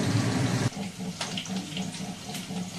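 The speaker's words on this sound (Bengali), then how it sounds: "চিকেনটা ধুয়ে নিয়ে তারপরে ওপরে যেতে হবে।" Tap water runs into a sink as chicken is washed in a home kitchen, a loud gush that suddenly eases into a lighter, splashing trickle.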